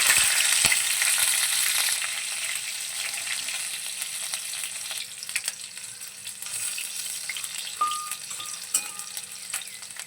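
Panch phoron and three slit green chillies sizzle and crackle in hot oil, a loud steady frying hiss that eases a little after the first two seconds, with a few scattered pops.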